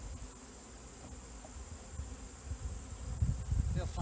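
Honeybees from a nuc colony buzz in a steady, close hum as they are shaken into a hive before combining colonies for winter, the drone swelling louder toward the end.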